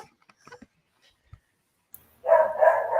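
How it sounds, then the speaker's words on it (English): A dog barks in a short burst of several loud, closely spaced barks near the end, after a few seconds of near silence. "The dog started barking"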